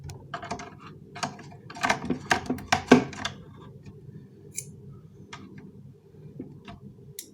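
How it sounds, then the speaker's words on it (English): A magnetic screwdriver working screws out of a NERF Rapidstrike CS-18 blaster, producing a cluster of close, sharp plastic clicks and ratcheting ticks that thin out into sparse, quieter taps. "Maybe I'll just pull it out with a magnet attached to the screwdriver."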